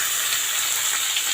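Eggplant and potato pieces sizzle in hot oil with panch phoron, a steady, dense hiss of frying that holds evenly close by throughout.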